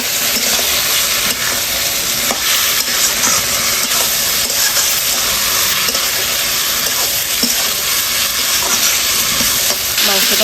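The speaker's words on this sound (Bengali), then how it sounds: "হলুদ মাখানো মাংসটা দিয়ে দিচ্ছি। মাংসটা ভালো করে কষিয়ে নেবো অনেকক্ষণ ধরে।" Turmeric-rubbed raw pork sizzling and frying steadily in a pan, with faint scraping of stirring throughout; loud, close and continuous with no talking.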